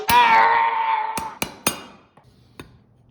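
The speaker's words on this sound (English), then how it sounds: "I'm gonna do some cleanup on that, and then I'll punch the hole." Hammer blows on a steel cold punch driving a hole through forged metal for a padlock: a long ringing metallic strike followed by three sharp clinks, then a fainter tap, close and loud with no talking.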